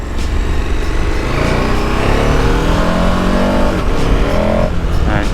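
A 2023 KTM 1290 Super Adventure motorcycle accelerates hard, its engine note climbing steadily through the revs as it picks up speed, loud and close with rushing wind noise and no talking.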